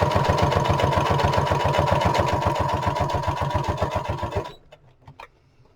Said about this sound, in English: I'm just going to do a straight stitch along the border of this